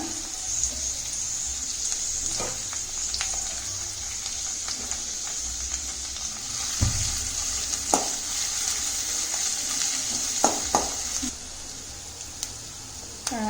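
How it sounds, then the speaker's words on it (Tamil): Onions and curry leaves sautéing in a pan for tomato sevai, a soft continuous sizzle broken by occasional clicks and knocks of a spatula stirring, no talking. "ஆனியன் போட்டுடலாம். கருவேப்பிலை போட்டு இதை நல்லா வதக்கலாங்க."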